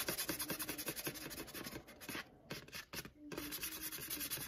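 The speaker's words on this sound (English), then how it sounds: "I like to take some sandpaper and just rough it up" Sandpaper roughing up the edges of a tumbler for a distressed finish: steady rapid back-and-forth rubbing strokes, close and fairly quiet, briefly pausing midway before resuming.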